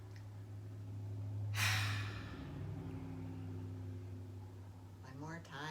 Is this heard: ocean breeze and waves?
no